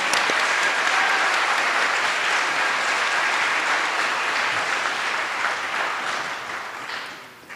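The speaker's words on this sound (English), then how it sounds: "let's give him a round of applause for bringing this to us" A roomful of people applauding at a student leadership awards event, dense continuous clapping that holds steady and then gradually thins and fades toward the end.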